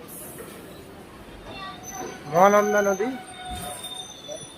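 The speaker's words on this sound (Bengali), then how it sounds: "আমাদের ডিএমইউ ট্রেন দেখুন" The 75721 Siliguri–Haldibari DEMU passenger train rolls slowly across the Mahananda river bridge in a steady rumble, with someone talking over it and a brief tonal swell midway.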